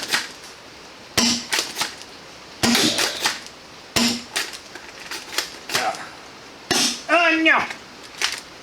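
Foam dart blaster fitted with an Unicorn upgrade kit fires several sharp, close snapping shots spaced irregularly, with brief pauses between them and a whirring, whistling sweep near the end.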